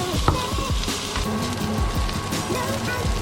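Salmon stir-frying in sesame oil in a pan, with a steady dense sizzle and frying crackle throughout, plus a few clanks and scrapes of stirring; no one speaks.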